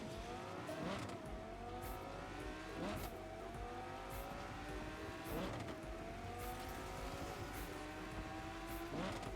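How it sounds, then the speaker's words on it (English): A car in Cyberpunk 2077 does burnouts, its engine revving in repeated rising sweeps amid tire noise, held at a fairly low, steady level throughout. "I'm busy doing burnouts."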